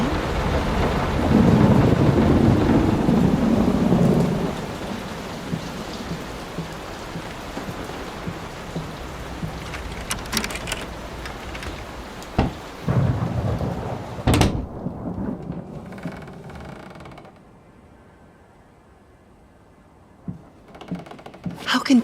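Rain and rolling thunder in the horror game Layers of Fear: a heavy rumble swells early, then steady rainfall patters with sharp cracks and knocks, fading to near quiet before faint drops return.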